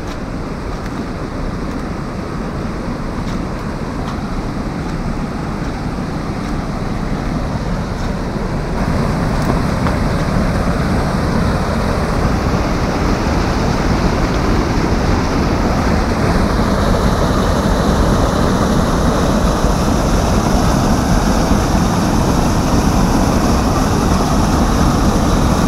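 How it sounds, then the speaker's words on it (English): Loud, steady roar of a waterfall in upstate New York, constant broadband rushing close by for the whole stretch with no pauses and no voices. "But sitting by this waterfall is, with the sound of the water, it's pretty relaxing."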